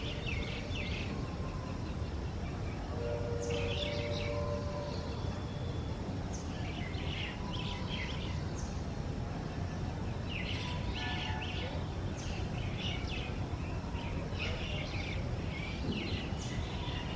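Birds chirping in the surroundings: repeated bursts of high tweets and calls that come and go over a steady broadband hum, moderately distant and faint, with no talking.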